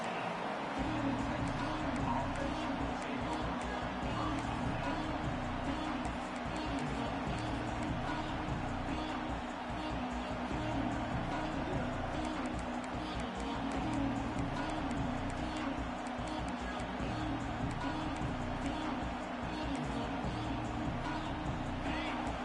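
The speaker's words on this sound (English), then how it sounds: "Listen to the crowd energy here in the early going." Steady, dense roar of a large stadium crowd cheering continuously throughout a football game, loud and sustained with no pauses.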